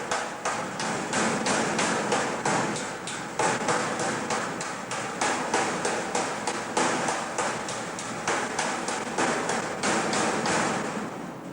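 A hammer taps over a thin metal corner during a Robin Hood Super Spec kit car build, delivering a long run of quick, evenly spaced close knocks with only brief pauses and no talking.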